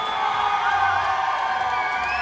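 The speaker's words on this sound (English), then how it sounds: "And an equal cheer for the Republic of Ireland." Fans in an arena cheer for the Republic of Ireland at an under-17 match, a loud continuous crowd roar with high shouts and whoops standing out from it.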